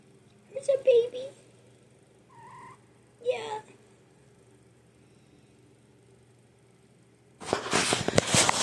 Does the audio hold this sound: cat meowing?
yes